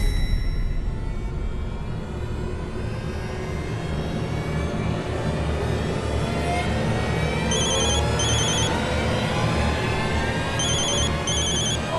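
A telephone ringing after a number is dialed, repeated ring tones in short paired bursts over a steady hum of background noise, with no voices.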